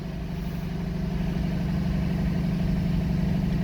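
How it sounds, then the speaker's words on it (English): A 1962 Studebaker Champ truck engine idling steadily just after starting, a close, continuous low rumble with an even throb and no talking. "Alright, we haven't fired this up in a while. Let's see if we can get her to go."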